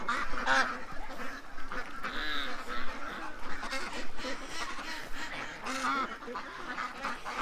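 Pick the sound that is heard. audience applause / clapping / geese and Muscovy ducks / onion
geese and Muscovy ducks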